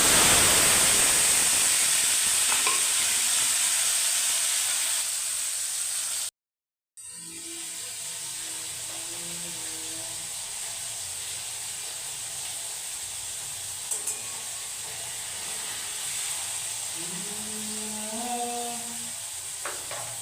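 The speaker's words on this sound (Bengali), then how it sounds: "পনিরটাকে আমি বেশি ভাজবো না হালকা ফ্রাই করে নিয়েছি" Paneer cubes sizzle lightly in a pan for a dish of matar paneer, a steady soft frying hiss running throughout, broken by a brief silent gap, with faint kitchen clinks near the end.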